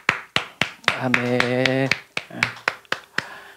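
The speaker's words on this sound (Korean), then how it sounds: "하나님께 우리 감사의 박수 올리겠습니다" A church congregation at a Friday worship service claps in thanks, with sharp, evenly spaced claps in a steady rhythm; a voice briefly speaks over them in the middle.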